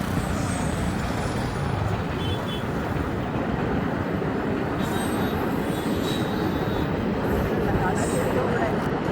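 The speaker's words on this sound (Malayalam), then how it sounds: "നമ്മൾക്ക് ഇതേ ഇവിടെ പാമ്പൻ പാലത്തിൽ കൂടെ ട്രെയിൻ വരുന്നു കേട്ടോ." A train crossing the Pamban bridge near Rameswaram, a steady loud rumble of wheels and carriages filling the whole stretch with no break.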